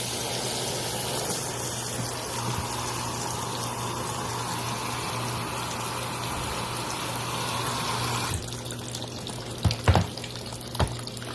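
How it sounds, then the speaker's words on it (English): Water rushes steadily from a regular pull-out hose into a Laundry Alternative Poseidon washer with an agitator, a constant close gushing that cuts off near the end, followed by a few soft knocks. "you can just pull the hose and manually fill the washer as you wish, like I'm doing here with a regular pull-out hose."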